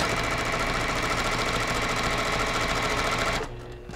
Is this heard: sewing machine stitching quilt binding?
yes